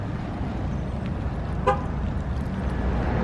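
A single brief horn toot from a truck being locked, sounding once near the middle over steady outdoor road and traffic noise, fairly near and moderately loud.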